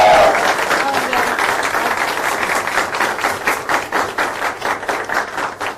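A studio audience at a Govinda interview claps in sustained, even applause that becomes more rhythmic near the end, under a brief voice at the start.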